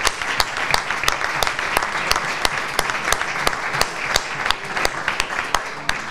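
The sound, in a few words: audience applause at book presentation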